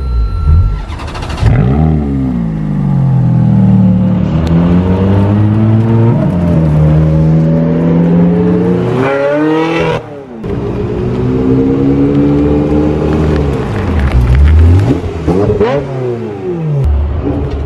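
A Ferrari 355 that had sat unused for a couple of months is revved hard and close by. Repeated rising and falling engine sweeps carry a brief dip midway, with no talking.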